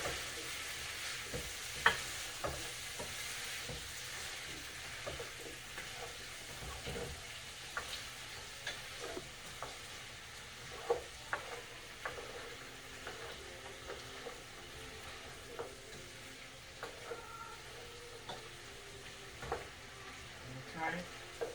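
Vegetables in sauce for roasted garlic chicken get stirred in a pan: a quiet, low simmering crackle runs under repeated sharp utensil scrapes and taps against the pan.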